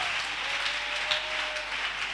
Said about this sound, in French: Acclamez grand pour l'Éternel là.